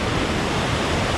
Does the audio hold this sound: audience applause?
no